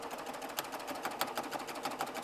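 A Baby Lock serger runs steadily, stitching jelly roll charm squares, with worn needles that put small, sharp clicks over a busy mechanical whir.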